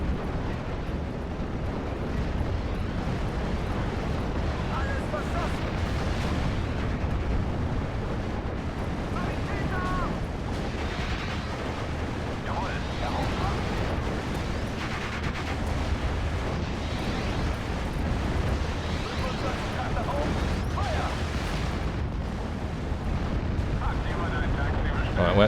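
Artillery shelling and explosions rumble continuously in the WWII strategy game Steel Division: Normandy 44, set around Carpiquet. The blasts and booms form a dense, loud wash with no clear gaps, and someone talks over parts of it.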